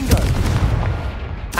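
A Confringo fire spell exploding in the video game Hogwarts Legacy, a loud booming blast with rumbling tail and a sharp crack near the end.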